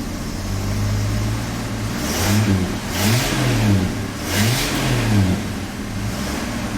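A budget turbocharged car engine, still cold, idles with a steady low rumble and then revs in several quick rising-and-falling blips, loud and close.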